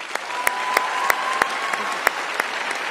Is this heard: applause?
yes